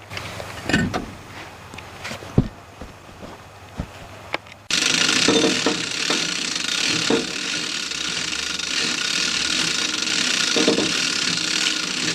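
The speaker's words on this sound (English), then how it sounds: "Pull some wheels off. Got the right socket fitting there." A ratchet socket wrench working on vehicle wheel fasteners, a few separate ratcheting bursts and clicks, then a long loud continuous ratcheting whir close by.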